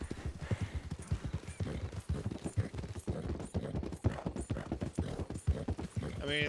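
Horse hooves clip-clop steadily in Red Dead Redemption 2, a slow, good-tempered mount plodding in a close, even rhythm, with a voice talking over the hoofbeats and a brief whinny near the end.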